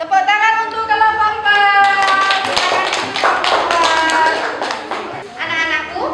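A classroom group gets applause: a burst of clapping from many hands rises after a couple of seconds and carries on steadily, with children's voices ringing over it.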